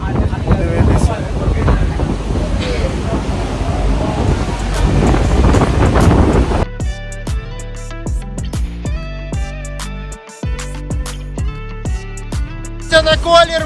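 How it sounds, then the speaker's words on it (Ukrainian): A passenger boat cruises on the water in Bangkok, with a loud rushing wash of wind and spray against the microphone at first, then a steadier engine hum with intermittent splashes and knocks. "Є такий типу кораблик, і ми взяли кораблик, 40 бат за людину, і пливемо кудись подивитися."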